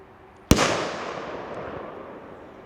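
A firework bursting inside a grapefruit at a firework safety demonstration, one sudden loud sharp bang followed by a long fading rumble and echo, with no talking.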